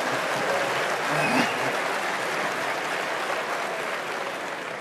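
Audience applause at the 1994 Berkshire Hathaway annual meeting: a dense, steady wash of clapping from a large crowd that carries on without a break, with a faint voice briefly audible.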